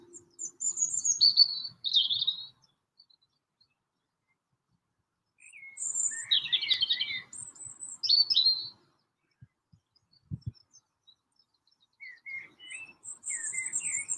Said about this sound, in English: I want you to hear the birds.